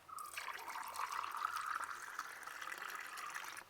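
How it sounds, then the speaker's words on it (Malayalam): Mint lemon juice is poured from a vessel into a glass as a quiet, continuous trickle that lasts a few seconds and then stops. "നമുക്കിനി ഇതൊരു ഗ്ലാസ്സിലേക്ക് ഒഴിച്ചു കൊടുക്കാം."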